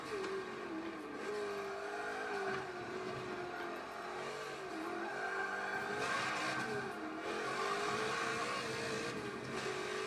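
A Subaru Legacy races in Forza 7, its engine holding a steady, loud drone that rises and falls with gear and throttle changes, running continuously with no one talking.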